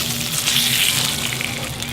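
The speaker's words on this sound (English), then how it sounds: "So you want to brown the fish on each side for about 2 to 3 minutes." Fish browning in hot oil in a pan, a steady dense sizzle and crackle filling the whole stretch, close and fairly loud with no talk over it.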